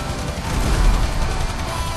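A helicopter explodes during a video game police chase, a dense roaring blast with low booming rumble and crackling debris, loud and continuous for about two seconds.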